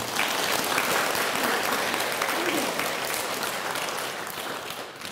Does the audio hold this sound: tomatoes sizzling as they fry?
no